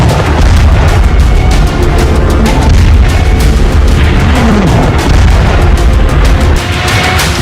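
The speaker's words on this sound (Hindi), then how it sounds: "आसमान से बम बरस रहे हैं" Bombs exploding during fierce fighting in Lashkar Gah, Afghanistan: loud, dense booming and crackling blasts keep going without a break, heavy and distorted, with no voices heard.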